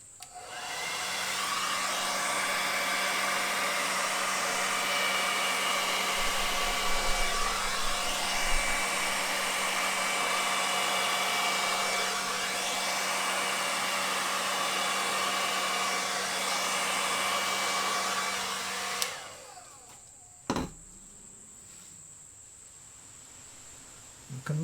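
A hair dryer blows steadily across a wet metallic Dutch pour painting on canvas, a loud continuous whoosh lasting about nineteen seconds before it switches off, followed by a few faint knocks.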